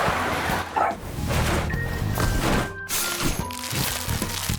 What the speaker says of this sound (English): Don't know what he's barking at.